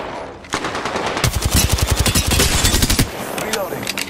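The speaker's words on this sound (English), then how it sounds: "The enemies are shooting at me." Rapid automatic gunfire in Apex Legends arena combat, with enemies shooting at the player: dense bursts of machine-gun shots rattle loudly and continuously for a few seconds, then ease off into scattered single shots.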